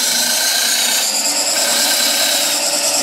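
A wood lathe turns while a tool makes a peeling cut into the spinning wood, giving a loud continuous hissing, rasping scrape up close with no break across the whole stretch.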